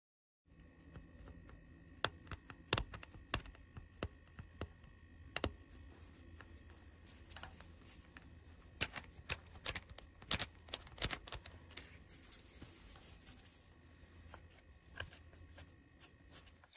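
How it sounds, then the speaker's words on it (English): A plastic trim tool scrapes old RTV sealant off the valve cover area of a 2012-2018 Ford Focus 2.0L engine, giving faint, irregular ticks and scratchy clicks in close, quiet surroundings. "I'm going to use my plastic trim tool for this area right here. Just kind of work that RTV out there."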